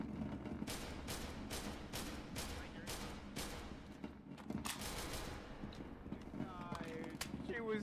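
Distant bursts of automatic gunfire in the video game SCP: Secret Laboratory, faint repeated volleys under a continuous low background din.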